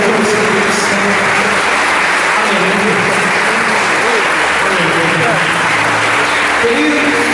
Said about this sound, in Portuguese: Igreja, você pode aplaudir o Senhor.